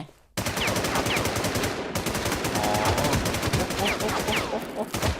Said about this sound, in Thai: มึงยิงจากทางไหนวะ